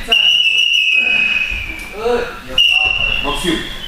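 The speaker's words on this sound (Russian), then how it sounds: "Свисток, свисток." Referee's whistle at a wrestling practice: a sustained shrill tone blown twice, each blast lasting about a second, loud and close, with a coach's voice speaking between and over the blasts in a gym.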